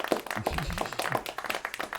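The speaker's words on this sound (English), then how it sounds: "that's even such a lackluster clap" A small audience gives a lackluster, sparse clap on a podcast set, a few scattered hand claps over about two seconds, fairly close and thin rather than a full applause, with some murmuring voices mixed in.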